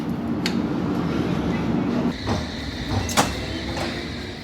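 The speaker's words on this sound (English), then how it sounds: "After Rich jumped on the wrong train" Rumble of a train carriage in motion, steady and close, with a few clanks and a brief metallic squeal.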